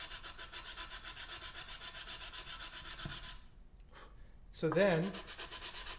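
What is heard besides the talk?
sanding wood by hand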